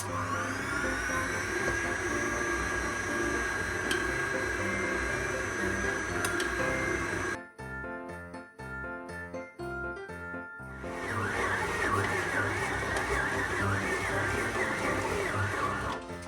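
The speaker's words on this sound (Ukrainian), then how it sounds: "Вмикаю замішувати, поступово починаю додавати борошно." An electric dough mixer runs steadily, kneading stollen dough as flour is gradually added, a loud continuous motor whir that briefly breaks into stuttering pulses midway before resuming, with no talking.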